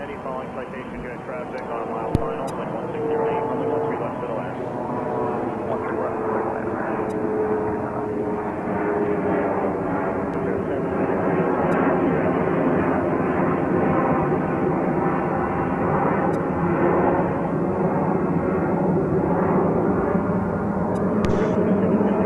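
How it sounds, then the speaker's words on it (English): A seven-year-old Mitsubishi CRJ 900 jet departing JFK airport, a steady loud engine roar with a droning tone held throughout, heard under someone talking. "That would be Delta Connections Flight 5277 departing JFK to Burlington, not the coat factory, on a Mitsubishi CRJ 900, 7 years of age."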